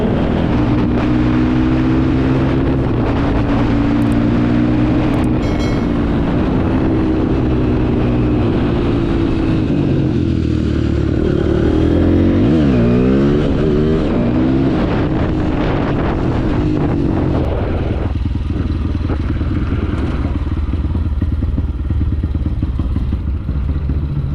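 A Honda CRF motorcycle engine drones steadily on a test ride, with wavering pitch as the revs rise and fall and heavy wind buffeting the microphone the whole time.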